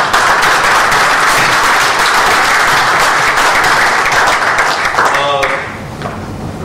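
Loud, dense audience applause after a keynote address at a family business event, sustained clapping that fades slightly near the end.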